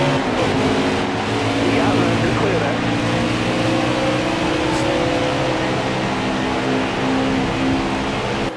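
Stock cars roar off the line at the green flag at Charlotte in NASCAR Heat 4, a loud, dense engine drone of many cars holding steady throughout, with a voice talking over it.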